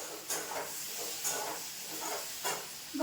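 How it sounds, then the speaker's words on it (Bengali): Potatoes fry in a pan in a home kitchen, giving a steady soft hiss that swells in brief bursts about every second, moderately close, with no voices. "আলু ভাজা হচ্ছে"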